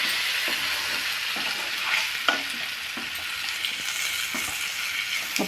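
Paneer pieces fry in a hot pan as soy sauce goes in, a steady close sizzle with scattered scraping knocks of a spoon stirring, no voices.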